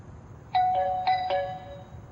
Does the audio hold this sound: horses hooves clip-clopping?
no